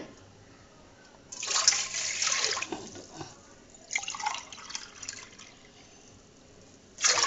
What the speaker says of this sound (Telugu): ఈ బాస్మతి రైస్ కలపటానికి ముందుగా వాటర్ హీట్ చేసుకోవాలి కాబట్టి అందులో పోస్తున్నాం అన్నమాట.